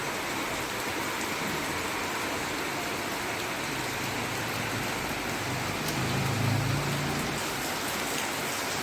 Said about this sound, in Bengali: দেখি মুষলধারে বৃষ্টি পড়ছে